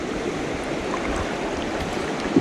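Water of the James River flows around a fishing kayak, a steady, moderately loud wash and gurgle without pause, close by and free of talk.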